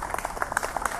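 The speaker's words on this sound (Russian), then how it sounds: "Давайте хлопать." A concert audience claps in rhythm during band introductions, with quick, even, close claps under a speaking voice.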